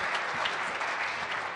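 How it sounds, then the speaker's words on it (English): An audience claps steadily at a logistics conference in Bahrain, the applause dense, continuous and fairly close throughout, with no voices rising above it. "Please give a round of applause for the detailed research."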